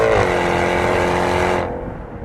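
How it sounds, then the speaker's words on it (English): A Jaguar F-Type with an eight-speed gearbox roars loudly as its engine revs hard, a rich continuous exhaust note held close for about a second and a half before dropping away. "exhaust note that sounds like nothing short of a middle finger aimed directly at the sky"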